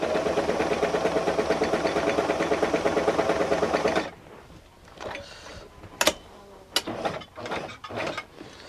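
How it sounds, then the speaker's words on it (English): A White model 940 vintage sewing machine runs a straight stitch, a loud steady mechanical clatter pulsing rapidly for about four seconds, then stopping, followed by scattered clicks and handling knocks. "let's just sew a little bit. We're going to go do a straight stitch first"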